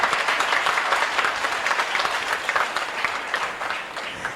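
An audience at a Hindi comedy poetry festival in Jamshedpur gives a welcoming round of applause, a dense, steady patter of many hands clapping that holds throughout and fades slightly toward the end.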